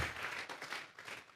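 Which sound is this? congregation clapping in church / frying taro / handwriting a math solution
congregation clapping in church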